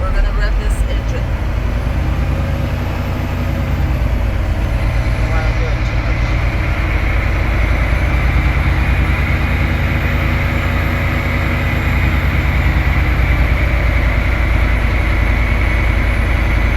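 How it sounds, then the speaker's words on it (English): Truck engine held at a steady elevated idle, revved to about 1200–1500 RPM for an air governor cutout test, a loud continuous rumbling drone with a high whine throughout, and no distinct rise or fall. "we're gonna rev it between 1200 and 1500 RPMs"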